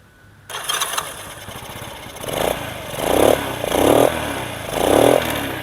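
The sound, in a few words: Honda Super Cup C70 motorcycle engine starting and running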